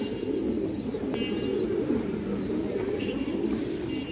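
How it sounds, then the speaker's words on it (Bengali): Repeated soft cooing from a female pigeon, close and steady over a dense background murmur of a flock, with light chirps scattered through. "ফুল 1 হাত সাইজের মাদি কবুতর"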